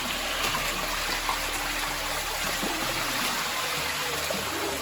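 Water rushes and gurgles down a natural rock water slide in a gorge at Karijini National Park, a steady, close wash of flowing water with no one talking.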